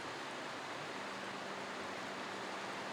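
Broadband rushing water from a waterfall and mountain stream in a remote valley of Juwangsan, a steady close roar that fills the whole clip with no voices.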